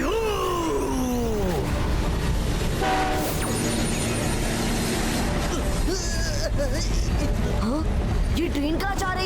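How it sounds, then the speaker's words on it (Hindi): A moving train in a cartoon, heard as a loud rumbling rush with horn-like tones and clattering, overlaid by animated voices and sound effects throughout. "ये ट्रेन कहाँ जा रही है?"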